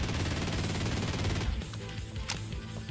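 AWM rifle gunshots in the video game Project Glad: a dense, loud rattle of fire that breaks off halfway, followed by a few scattered sharp reports.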